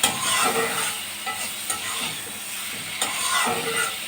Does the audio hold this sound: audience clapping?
no